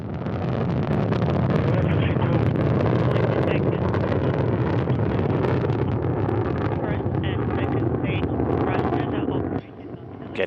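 A Soyuz rocket roars on its launch with its four strap-on engines, a loud, continuous crackling rumble with wind buffeting, dropping briefly near the end while a commentator talks over it.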